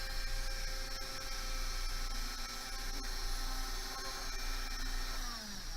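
A small electric rotary tool sands a metal bezel for a pendant, a steady high whine with a faint hum underneath that shifts pitch slightly as pressure changes, close and continuous.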